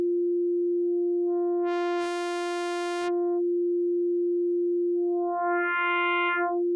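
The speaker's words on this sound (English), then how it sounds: "You can hear that feedback sounds similar to modulating from this other operator." Korg Opsix FM synthesizer tone from one operator using self-modulating feedback: a steady pure sine drone that twice brightens into a buzzy, harmonic-rich timbre as feedback is raised, then settles back, alone and clean.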